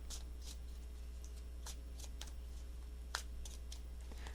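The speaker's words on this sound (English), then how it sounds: "Three shuffles." Tarot cards being shuffled by hand in a quiet room: a soft continuous riffle with several brief crisp flicks and one sharper snap near the end, set against a low steady hum, with no voices.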